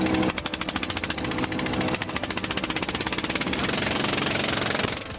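Engine of a Chinese fishing boat running steadily at close range, a continuous rough, knocking mechanical drone with a fast pulsing rhythm that holds for about five seconds, loud and with no voices over it.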